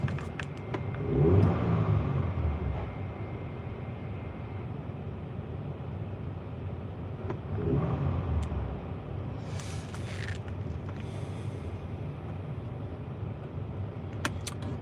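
Car engine revving up and settling while a mass airflow sensor is tested, a steady close rumble with two swells in revs, light metallic clinks near the end, and no talk.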